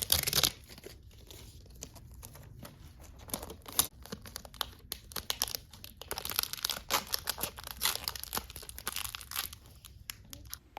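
Tape is torn and wrapped around a bundle of TV cords to hide wires in a wall, making close, repeated ripping and crinkling bursts in an irregular rhythm throughout.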